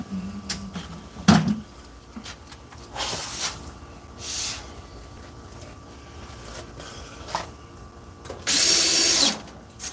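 A power drill drives screws into a motor in an outdoor alleyway, with a few short whirring bursts and a longer, louder run near the end, amid clicks and handling noises.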